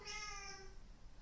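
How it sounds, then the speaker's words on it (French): A cat gives one clear, drawn-out meow close by, loud at first and then tailing off into quiet room noise. "Ne miaule pas trop fort, s'il te plaît."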